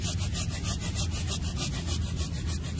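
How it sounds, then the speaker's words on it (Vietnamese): Hand saw cutting through an apricot blossom (mai) tree branch, a steady rapid rasping of back-and-forth strokes, close and loud, with no talking. "em cưa thử cây mai cho anh chị xem ha"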